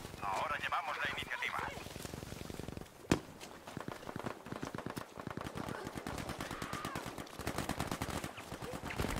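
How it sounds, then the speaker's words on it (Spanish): Gunfire in Battlefield V on PS4, rapid bursts of automatic shots and scattered single cracks, fairly distant and sustained, with a voice talking over parts of it. "Escucho disparos, pero no sé dónde están."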